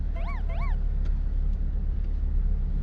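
Traffic on a road near Pearl Harbor in Hawaii makes a steady low rumble, with a few short high bird-like chirps early on above the continuous drone.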